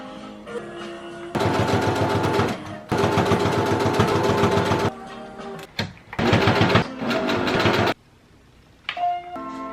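A sewing machine stitches makeup bags in several fast, loud, rhythmic bursts with short pauses between them, and brief lighter mechanical clicks fill the gaps.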